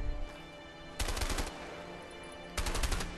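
Automatic gunfire in the video game A Way Out, two loud bursts of rapid shots about half a second each, separated by a quiet stretch.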